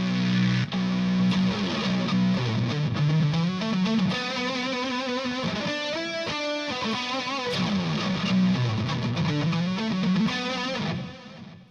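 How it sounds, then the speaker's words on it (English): A Line 6 Variax JTV-89F electric guitar played through heavy distortion, sustained overdriven chords and melodic bends ringing loud and continuous, then fading at the end. "Let's pop on distortion on that one."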